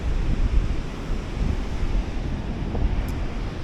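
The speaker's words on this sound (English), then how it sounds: "Beautiful waves today to surf too." Ocean waves break and wash continuously along a shore near a small half-pipe, a steady roaring surf with wind buffeting the microphone throughout, no voices.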